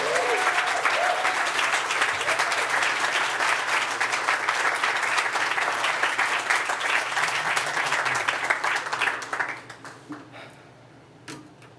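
Sustained applause from an audience at a theatre forum welcoming a speaker to the podium, steady and full for about nine seconds before tapering off into scattered claps.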